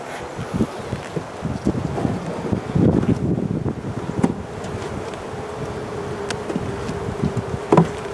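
Honeybees buzzing around an open hive outdoors on a windy day, a steady hum with individual bees passing close to the microphone and gusts of wind noise rumbling underneath.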